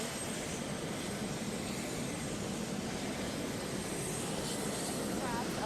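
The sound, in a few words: Air Force One jet aircraft approaching on tarmac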